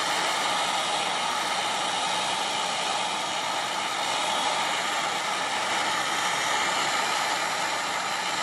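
A handheld heat tool blows a steady, even whoosh of hot air over embossing powder, melting it until it rises shimmery and silver; the loud, constant fan-like noise runs unbroken throughout with no talking.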